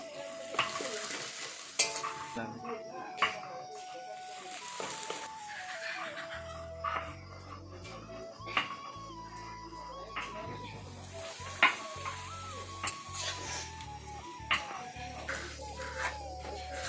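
Papad fry in a hot wok with a crackling sizzle, broken by sharp taps and clinks of stirring and lifting and a low hum in the later part.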